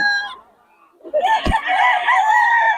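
A young stag gamecock crows loudly and close by, with a brief call, a pause and a sharp knock, then a long, strained crow that fills the rest of the moment.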